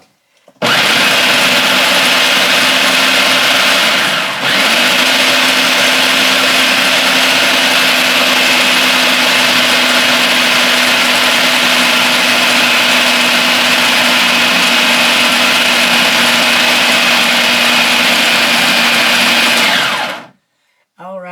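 A blender running loud and steady for about twenty seconds while it mixes peanut butter ball ingredients, with a brief dip in pitch near the start before it settles into a constant high whir and then cuts off.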